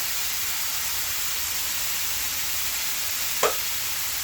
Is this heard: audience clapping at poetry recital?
no